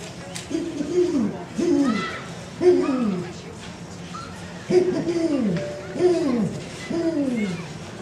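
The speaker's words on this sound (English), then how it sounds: "It was a great horned owl." A great horned owl hoots deeply in repeated rhythmic series, several calls each time, moderately near against a quiet night background.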